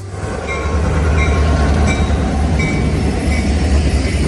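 A freight train rumbles steadily past at close range at Kingston Station, its low roar continuous with faint rhythmic wheel clacks and occasional metallic squeaks.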